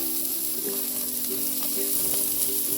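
Burger patties fry on a hot grill or pan with a loud, continuous close-up sizzle and crackle, steady throughout with no talking.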